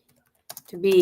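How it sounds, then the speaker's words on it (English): Computer keyboard typing, a few soft scattered keystrokes that give way to steadier tapping partly masked by a louder tonal sound at the end. "You guys know I'm typing this."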